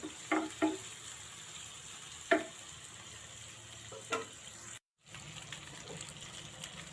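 Mukhi kochu (taro) fries in a pan for a taro bhorta, with a faint, low sizzle broken by a few sharp stirring clicks and scrapes and a brief silent gap near the end.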